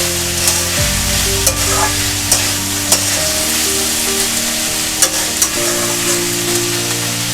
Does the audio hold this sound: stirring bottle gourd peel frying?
yes